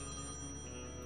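A telephone rings in the point-and-click adventure game Thimbleweed Park, an out-of-order phone sounding as a steady, faint tone over a low hum, with no talk over it.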